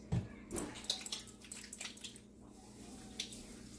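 Water splashes and drips while shampoo is rinsed out of hair, giving a close, soft wet patter with a few sharper drops.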